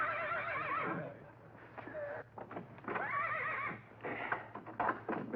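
A horse neighs and whinnies repeatedly at close range in a colorized 1950s sitcom, several loud shrill calls separated by snorts and a few hoof clops.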